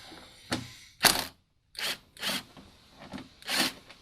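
A T30 Torx bit works loose the oil filter housing on a Ford Shelby GT350 during an oil change, giving short, close scraping and rubbing bursts separated by brief pauses.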